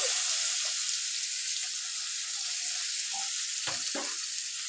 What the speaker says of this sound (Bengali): প্রথমে একই তেলে পেঁয়াজ কুচি দিয়ে দিলাম